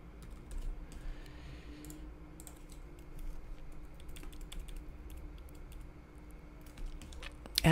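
Soft, scattered keystrokes on a computer keyboard, close but faint against a low room hum, with a few louder clicks near the end.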